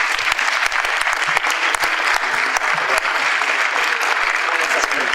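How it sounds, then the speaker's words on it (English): Applause from the audience for a guest at a college entrepreneurial club kickoff event, steady and dense clapping from a sizable crowd that fills the room, with faint voices mixed in beneath it. "please have a round of applause for our outstanding guest"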